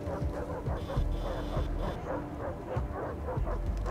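Several dogs bark and yelp in Far Cry 3, a rapid run of overlapping barks and whimpers, fairly close and loud over a busy game background.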